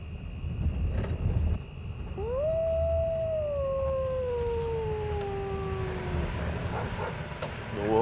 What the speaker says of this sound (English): The wolves. Oh, she breeds wolves too?